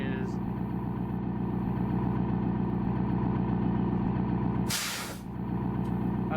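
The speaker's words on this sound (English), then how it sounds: "let's start this beast up" A 2020 Freightliner Cascadia diesel truck idles in a video game with a steady, throbbing low rumble, interrupted once by a sharp hissing burst of air brakes near the end.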